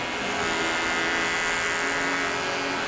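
Electric hair clipper trimming a hairline during barber training in a barbershop, a steady close buzzing whir that runs unbroken throughout.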